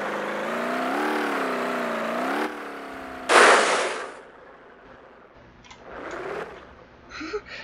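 A car engine in the BeamNG.drive driving game, glitching, with a sustained harmonic whine that wavers in pitch, then cuts off into a sharp burst of noise, followed by quieter rattling and scraping.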